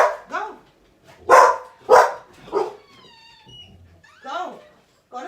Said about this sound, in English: you guys are going to have to just deal with her barking